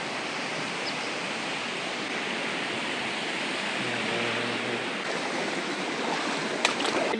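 A flooded, muddy river rushes past nearby, a dense and steady roar of water with no talk.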